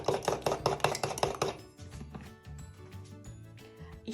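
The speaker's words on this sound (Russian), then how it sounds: "Размешиваем." Two chicken eggs and a teaspoon of salt whisked by hand in a bowl for dumpling dough, a quick run of rhythmic clinking strokes that stops midway, leaving quieter kitchen clatter.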